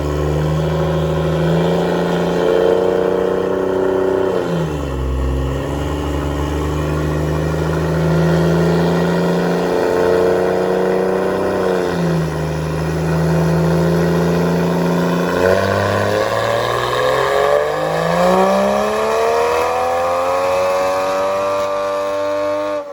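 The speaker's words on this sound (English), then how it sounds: "it's got the full titanium Remark exhaust" A Toyota Supra MK5 with a full titanium Remark exhaust and Varis Supreme widebody revs on a dyno, holding a loud steady drone, dipping, climbing again, then sweeping up sharply in a long rising pull.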